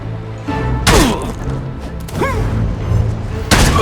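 Heavy weapon blows land in melee combat in Risen 3: Titan Lords, with a few loud thuds and whooshing swings spaced over a few seconds against a low background bed.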